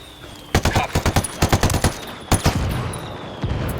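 Automatic gunfire erupts in the video game Ghost Recon Wildlands: rapid, sharp shot bursts at mid distance, clustered and then pausing briefly before another volley, with no voices over them.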